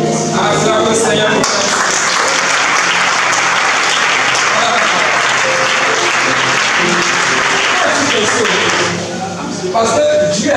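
A church congregation applauding and cheering for the Lord during a worship service, a loud, sustained wash of clapping filling the room for several seconds, with voices and music underneath before it fades.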